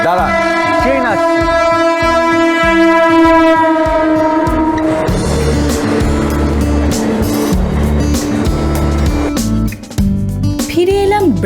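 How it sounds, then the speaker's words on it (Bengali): A train pulls into Serampore in Hooghly district, its loud horn sounding close at first, then the heavy rhythmic rumble and clatter of passing carriages building and rolling on for several seconds. "ও দাঁড়ান, ট্রেন আসছে।"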